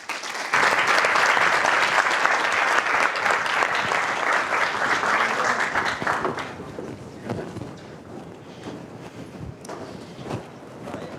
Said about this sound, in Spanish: Un aplauso para Felipe Bozzo, por favor.